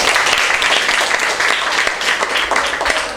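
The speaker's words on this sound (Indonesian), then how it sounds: "Tepuk tangan. Tepuk tangan." Students at a school student-council national-defense briefing break into loud, dense clapping that fills the room steadily from start to finish, close by.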